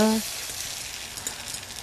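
A steady, close sizzle as liquid pours into a hot, olive-oiled frying pan, a continuous hiss that holds evenly from start to finish.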